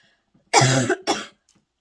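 Two harsh coughs in quick succession, close and loud, the first longer than the second, with quiet around them.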